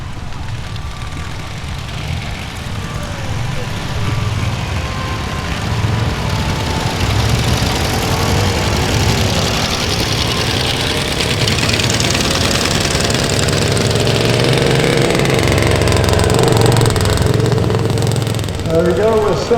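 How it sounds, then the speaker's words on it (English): Motorbikes, including a sidecar outfit, arriving at a vintage machinery show, their engines chugging and revving nearby under a steward talking over a public address, growing louder toward the end. "can we organise those motorbikes that are coming in, please?"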